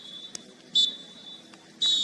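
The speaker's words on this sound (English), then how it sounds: "the official blows the whistle, indicating that the match is over" A referee's whistle at a women's soccer match sounds in short, sharp blasts, the last one longer to end the game, moderately distant over faint crowd and field noise.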